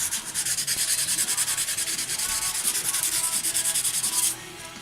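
A wire brush scrubs steadily and loudly along the steel blade of a Sikh sword, its bristles clogged with WD-40, in a fast rhythmic rasp that runs for about four seconds before cutting off abruptly.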